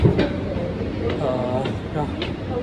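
Metro train at an Ernakulam metro station: a steady broad rumble with a rising metallic squeal of wheels or brakes midway, and faint voices in the background.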